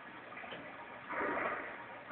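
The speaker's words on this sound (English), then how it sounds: "I always hated the sound this water made." Sewer water in the video game Resident Evil 2, a soft, continuous watery wash that swells louder midway and then settles, with no voices.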